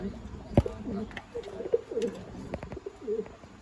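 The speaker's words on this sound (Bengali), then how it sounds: "আমরা এখন আমাদের কাউসার মামার কবুতর ফার্মে আছি।" Pigeons coo in low, rolling phrases repeated through a pigeon farm in Bangladesh, with a sharp knock near the start and a faint voice in the background.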